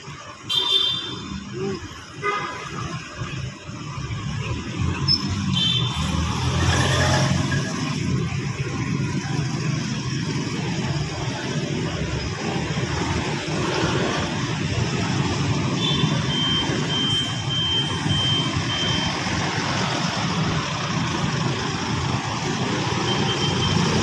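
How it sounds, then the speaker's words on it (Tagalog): Morning street traffic on Guevarra Street in San Juan City, Metro Manila, on the first day of school: a continuous close rumble of engines and passing vehicles, with brief high tonal beeps or horn-like tones early on and again midway. "First day of school, lagyan ng traffic dito sa may Guevara Street, San Juan City, Metro Manila,"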